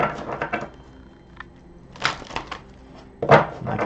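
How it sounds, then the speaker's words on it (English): An oracle card deck is shuffled by hand, giving bursts of papery riffling and flicking that come in short clusters, close and fairly quiet, with pauses between them and no speech. "we're going to give them a quick shuffle here before we get started"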